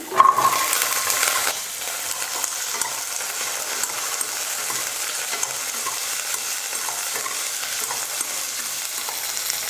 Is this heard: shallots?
yes